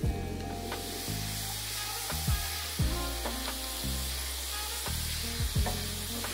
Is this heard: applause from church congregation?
no